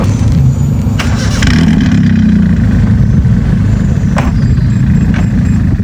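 A Proton Arena pickup engine rumbles loudly and close, rising into a rev before settling back to a heavy idle, with a couple of sharp clicks.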